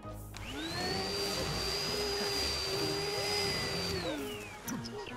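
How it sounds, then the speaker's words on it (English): Vacuum cleaner running in The Sims 4 video game, a steady whining drone with a rising high tone that holds for several seconds and then winds down at the end, loud and alone. "Vacuum up downstairs."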